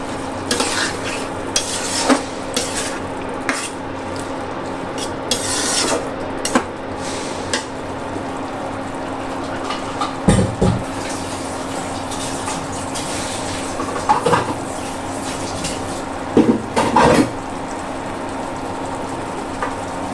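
Tengra fish with chichinga (snake gourd) vegetables and green chillies stir-fried in a pan, a low sizzle under repeated metal spatula scrapes and clinks, with a few louder knocks.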